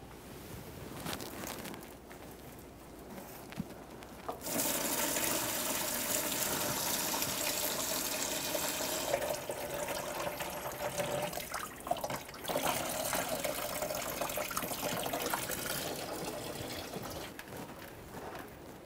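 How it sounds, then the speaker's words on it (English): Coolant drains from the lower radiator hose of a 2002-2009 Chevrolet Trailblazer with the 4.2L inline-six into a collection bucket, a steady gushing pour of liquid that runs for several seconds, with a few faint knocks and no talking. "we'll control that fluid down into our collection bucket."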